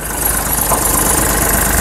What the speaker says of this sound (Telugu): నేను వచ్చేసి ఇంజన్ అయితే చూపిస్తాను